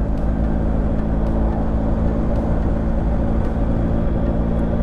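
A 2021 BMW 1250 GS Adventure Rally motorcycle is test ridden, its engine holding a steady, close drone mixed with rushing wind noise, with no clear revving changes.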